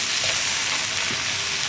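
Capsicum and sauces cook in a hot pan with a steady, bright sizzle that stays loud and even throughout, broken only by a few faint stirring sounds.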